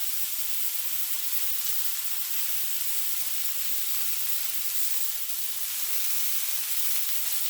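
Liberian roasted meat sizzling steadily in a hot pan after being flipped, a continuous bright, hissing crackle with faint popping, close and even in loudness, with no voices.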